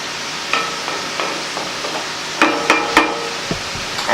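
A spoon stirring sauce in a cooking pan, with several scraping clinks and knocks against the metal at uneven intervals over a low, steady sizzle.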